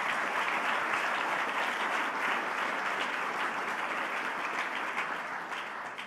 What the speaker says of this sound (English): A round of applause for our LPGA players